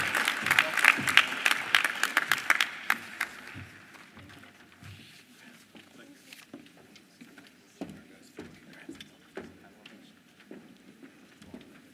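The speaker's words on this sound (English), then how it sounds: "Now we can give them a round of applause." Audience at a Philadelphia workforce signing-day ceremony applauding, a lively burst of clapping for a few seconds that thins into scattered, fading claps, with faint talk underneath.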